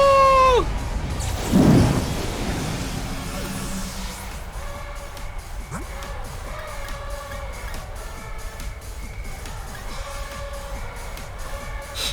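Rain and thunder from the Pokémon Shield video game: a loud thunderclap rumbles early on, then steady rainfall patters continuously beneath a repeating game music melody.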